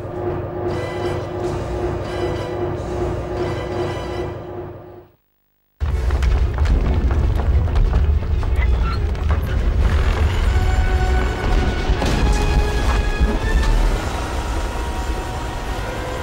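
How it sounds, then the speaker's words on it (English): Mine blowing up in the video game 007: Everything or Nothing, a sudden heavy boom after a brief silence, followed by a sustained loud rumbling roar of debris and game music. "with the mine set to explode, all that remains now is to dramatically run away from the explosion."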